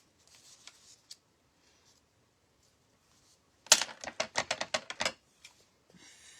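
Foam being cut for a velvet Easter egg craft, heard as a quick burst of crisp, rhythmic snips after near silence and a few faint clicks, close and moderately loud.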